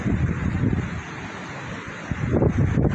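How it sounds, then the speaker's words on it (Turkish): Wind gusting outdoors at the Anadolu Hisarı fortress, a steady rumbling buffet on the microphone with stronger gusts near the end. "rüzgar var bugün ya"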